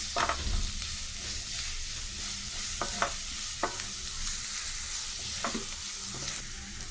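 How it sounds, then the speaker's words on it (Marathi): Ginger-garlic paste with asafoetida frying in a pan for a Maharashtrian bhirda of sprouted field beans, with a steady soft sizzle and scattered scraping clicks of a stirring spoon, moderately quiet and without speech. "आला लसूण पेस्ट चांगलं मिक्स करूया"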